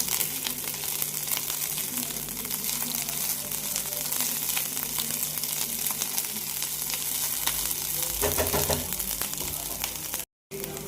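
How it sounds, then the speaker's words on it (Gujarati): Carrots, capsicum and crushed boiled corn sauté in a hot pan, a steady loud sizzle with occasional stirring scrapes and a brief cutout near the end. "ગાજર અને કેપ્સિકમ આપણે સોતે થઈ રહ્યા છે"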